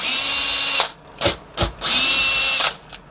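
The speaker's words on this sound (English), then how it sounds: "So I've got a posi bit at the end of my cordless drill." A cordless drill fitted with a Pozidriv bit backs out two lock screws on a sash window lock. There are two long loud whirring runs with short motor bursts between them, close up, and no talking.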